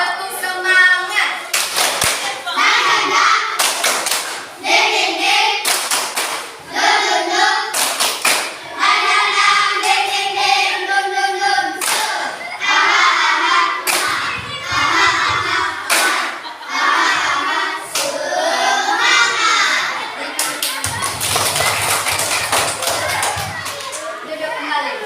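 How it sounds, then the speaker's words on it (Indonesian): A school class stands and claps a rhythmic spirit routine in patterned bursts of sharp, loud hand claps, with children's voices and chanting mixed in between the clapping runs. "Tepuk semangat."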